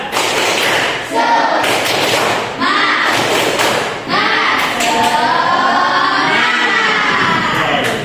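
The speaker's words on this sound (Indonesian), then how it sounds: "Coba kita mulai ya. Tepuk semangat." A class of schoolchildren claps out the rhythmic tepuk semangat chant in a classroom, loud repeated group claps and thuds with shouted voices in short bursts throughout.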